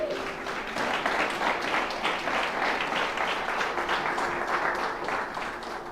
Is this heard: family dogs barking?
no